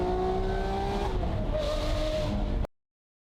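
Lamborghini Aventador Ultimae with a valved Valvetronic exhaust, revving with valves open: a loud, sustained high-pitched engine wail that climbs and holds before cutting off abruptly.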